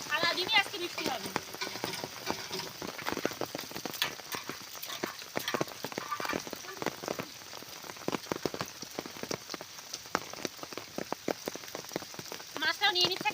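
Steady rain falling in a village on a wet day, a continuous patter of drops with dense crackling hits on surfaces, moderately close, under intermittent talk.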